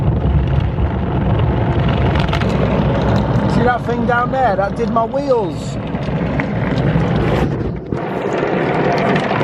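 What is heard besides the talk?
automatic car wash running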